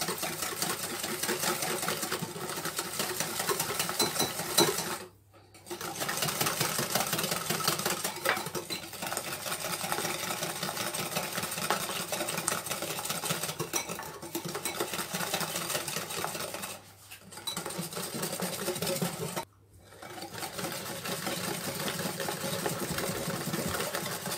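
Electric mixer beating cake batter in a bowl: a continuous, buzzing motor whir with a faint rattle, running for long stretches and halting briefly a few times.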